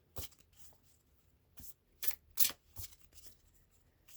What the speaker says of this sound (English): And I did shuffle the deck, clear the energy.